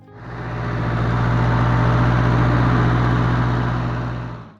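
A J.I. Case 430 small tractor engine running steadily, a loud, close, even mechanical drone that swells in and fades out with no talk.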